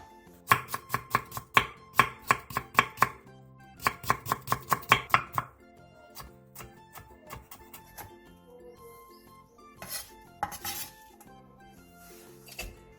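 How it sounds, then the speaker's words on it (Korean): A knife julienning a cucumber on a cutting board makes quick bursts of rapid, close chopping taps, then slower scattered knocks and clinks of the blade and board. "오이 1개를 길게 어슷선 뒤 얇게 채 썰어주세요"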